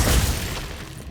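Glacius freezing spell cast in Hogwarts Legacy, a loud dense burst with a heavy low boom at the start that fades over about a second, with no talking.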